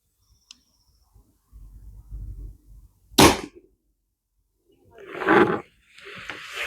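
A single sharp, loud crack from an FX Panthera Compact .25 calibre air rifle fitted with a Tatsu moderator, set between quieter handling noises and low background rumble.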